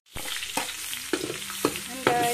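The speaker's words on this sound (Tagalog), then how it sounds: "Yan guys, simula na mag-gisa sa ating ricado." Aromatics sautéing in oil in an unwashed frying pan, a steady close sizzle broken by four or five sharp scraping stirs of a spatula against the pan, with no voices.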